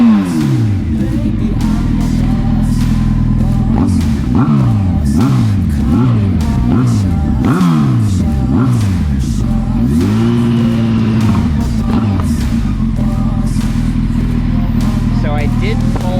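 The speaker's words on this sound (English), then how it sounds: "listen to that exhaust kind of as we're just sitting here" A Honda 919 CB900F Hornet motorcycle with its last muffler baffle removed revs repeatedly while stationary, loud and close, each blip rising and falling in a steady rhythm before a longer held rev near the end, with a voice talking over it.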